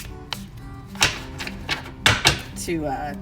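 Thick playing cards being shuffled by hand, giving a few sharp, papery riffling bursts and taps spaced unevenly over a few seconds, with a faint voice murmuring near the end.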